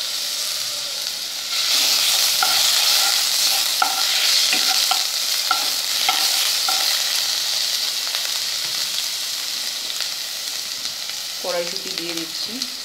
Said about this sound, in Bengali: এবার আমি আদা বাটা দিচ্ছি